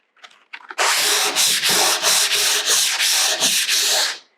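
Hand sanding of furniture wood with 120-grit sandpaper gives loud, close, steady rasping strokes in a regular back-and-forth rhythm after a few brief scrapes at the start.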